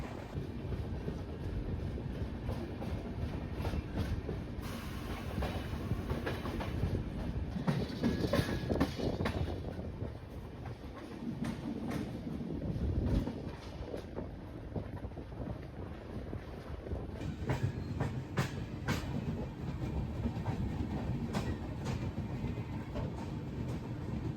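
The AP Express train rolls steadily along the rails with a continuous low rumble and rattling, heard from inside with wind buffeting the microphone.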